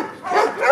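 A medium-sized dog, about 50 cm tall, lets out one short, close vocal sound, a brief bark or whine heard alone.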